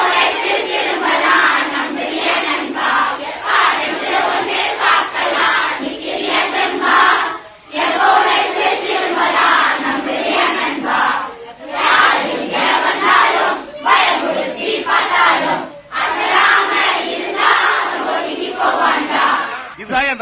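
Large political crowd shouting and cheering in chorus, loud rhythmic waves of massed voices that surge and dip repeatedly with brief pauses between bursts.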